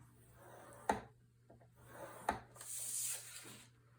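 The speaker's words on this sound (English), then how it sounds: "I'm going to place the 7 1/2 inch side along the scoreboard and score at 1/2 inch." Cardstock being scored on a scoreboard: two sharp taps as the paper is set down, light scraping and rubbing between them, then a soft dragging stroke as the score line is made, quiet and close.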